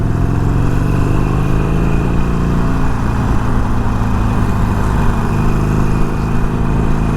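A Harley-Davidson Sportster 883 motorcycle engine runs steadily and loudly up close, with a continuous throbbing rumble that holds at an even idle throughout.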